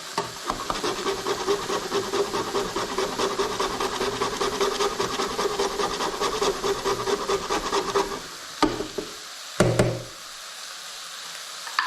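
Whole nutmeg is scraped across a grater in quick, even rasping strokes for about eight seconds. A few knocks and taps follow before it falls quiet.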